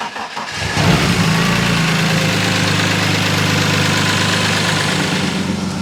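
A BMW E36 six-cylinder engine cranks roughly after being started in gear, catches after about a second and settles into a loud, steady idle close by.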